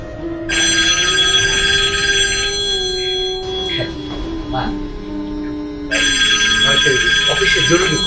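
An office telephone rings urgently in a Bangla drama scene, sounding as two loud, shrill bursts of ringing separated by a short pause, over a constant electrical hum.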